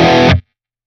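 A distorted electric guitar plays a single loud, dense chord through a distortion effect with no tremolo pedal engaged. The chord is cut off abruptly after about a third of a second, leaving silence.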